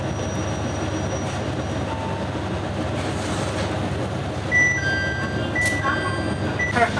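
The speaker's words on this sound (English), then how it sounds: "On the train" A train rides along the rails in Japan, a steady low rolling rumble with faint metallic squeals and high tones rising near the end, heard from inside and continuous throughout.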